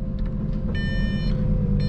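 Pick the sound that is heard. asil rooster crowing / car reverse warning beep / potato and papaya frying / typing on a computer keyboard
car reverse warning beep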